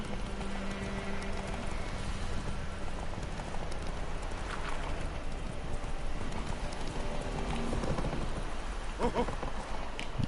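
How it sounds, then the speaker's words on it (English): Horse galloping in The Witcher 3 video game, rapid rhythmic hoof clip-clop running steadily throughout over a constant outdoor ambience, with no talk. "Come on, Roach. Let's go."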